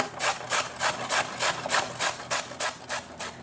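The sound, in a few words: grating a carrot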